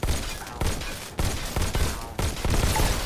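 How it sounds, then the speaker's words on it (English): Rapid pistol fire in the VR shooter Robo Recall fills the clip with a dense, loud volley of shots and impacts in several bursts, with no talking over it. "I'm going to reach down at my sides right now and grab my pistols and make short work of these initial robots here."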